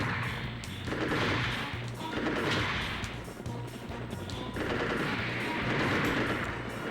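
Heavy gunfire from a powerful mobile suit weapon in the Mobile Suit Gundam: Federation vs. Zeon video game, sustained rumbling blasts that swell in waves and stay loud throughout, no talking.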